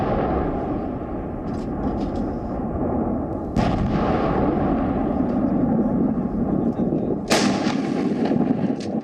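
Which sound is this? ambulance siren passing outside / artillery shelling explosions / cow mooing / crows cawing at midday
artillery shelling explosions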